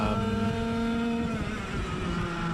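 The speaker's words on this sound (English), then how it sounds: "these 100cc karts accelerate a lot faster" A 100cc racing kart engine screams at high, steady revs on a club race track, loud and close with a sustained harmonic whine across the whole stretch.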